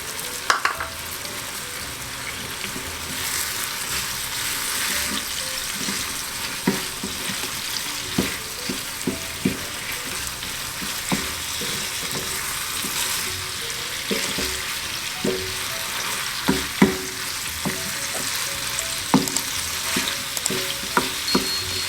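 Seasoned dumpling filling browns in a frying pan with a steady, lively sizzle, punctuated by frequent scraping and stirring taps of a utensil, close and continuous without speech.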